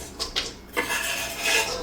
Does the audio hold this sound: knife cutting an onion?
yes